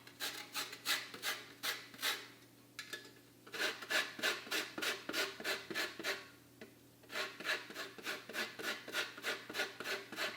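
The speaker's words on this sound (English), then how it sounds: "So we're just gonna add a little bit of lemon zest on here." A lemon rubbed on a grater over an apple pie makes rhythmic rasping strokes in quick bursts, close and fairly quiet, with brief pauses between runs.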